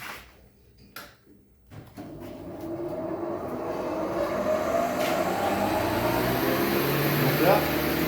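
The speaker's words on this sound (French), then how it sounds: "Là, tu vois la machine, elle tourne." A Felder AD 951 woodworking machine starts up after a couple of sharp clicks, then runs as a steady, rising broadband whir with a low hum, close and continuous for several seconds.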